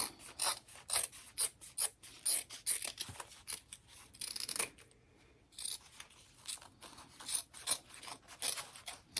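Scissors trimming excess lining fabric for a sling bag, a rapid series of crisp snipping cuts in uneven bursts with a short pause midway, close and fairly quiet.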